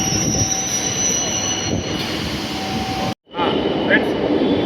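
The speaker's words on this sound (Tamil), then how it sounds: "இப்போ வேளச்சேரியிலேருந்து இப்போ புழுதிவாக்கம் ஸ்டேஷனுக்கு ட்ரெயின் வந்துட்டுருக்கு." A suburban train rolls into Puzhuthivakkam station in Chennai, a close, loud metallic wheel squeal over a rumbling roar, cut by a brief silent gap before the screeching resumes.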